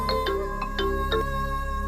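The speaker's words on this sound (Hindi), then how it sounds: "ये तुम्हारे पापा का फोन क्यों आ रहा है बार बार?" A phone ringtone chimes in a comedy skit as a father's call comes in, a short repeating electronic melody playing steadily and close by with no talk over it.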